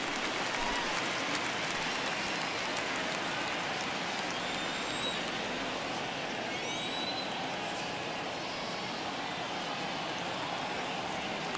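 Baseball stadium crowd at a Yankees–White Sox game rising and cheering on a full 3-2 count, a steady dense roar of many voices that holds loud throughout, with faint whistles on top.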